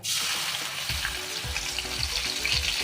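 Onion paste hitting a hot pan for a paneer dish, a dense bright sizzle with rhythmic low scraping strokes as it is stirred, close and loud, no voices.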